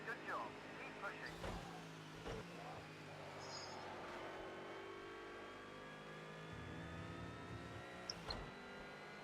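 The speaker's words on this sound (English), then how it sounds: "Car's driving nice." IMSA Lights race car lapping Watkins Glen in a racing video game, its engine revving and shifting through gears with a steady whine underneath, while people talk over it.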